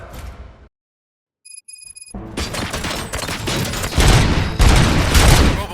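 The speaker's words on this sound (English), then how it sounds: "Gunshots? What's going on?" Heavy gunfire in RoboCop: Rogue City, a loud sustained fusillade of shots and impacts that builds after a brief quiet moment and a short electronic beep, growing denser and louder toward the end.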